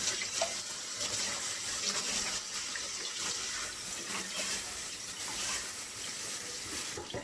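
Water runs steadily from a tap as a gutted catfish is rinsed, a close, continuous splashing rush with uneven surges from the fish being handled under the stream, no voice over it.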